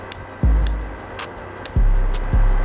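Speed adjustment notches on a JRL FF2020c hair clipper click sharply a few times, alongside several low thuds, close up with no talking.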